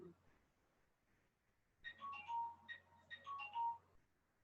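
A mobile phone rings softly indoors, a short melodic ringtone phrase of bright repeated chiming notes lasting about two seconds and fairly faint in a quiet room.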